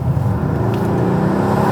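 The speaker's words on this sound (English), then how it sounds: "That 4-litre twin-turbo V8 that this car uses" A Mercedes-AMG GLC 63's 4-litre twin-turbo V8 rumbles at a steady, loud pitch, a continuous deep engine drone heard up close with no voices.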